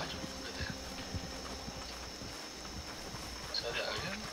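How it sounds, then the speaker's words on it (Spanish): A horse's hooves clip-clop unevenly in Red Dead Online against steady game ambience, fairly faint and blended into the background, while someone talks over them. "Un caballo, vete."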